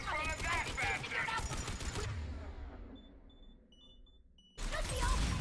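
Heavy weapon fire and shockwave blasts from the Mass Effect 3 video game, a loud dense burst of explosive shots that decays into a quiet lull before another loud burst of gunfire.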